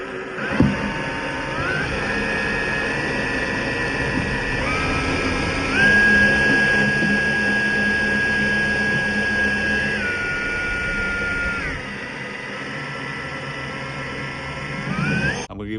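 A Vevor wire stripping machine runs steadily throughout, its motor whine holding a sustained tone that shifts pitch in steps as it works on a wire, with no talking over it.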